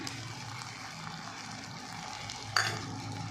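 A spoon stirs boiled corn kernels into cooked rice in a pot for Mexican rice, a soft continuous scraping and sizzling up close, with one sharp clink of utensil on the pot.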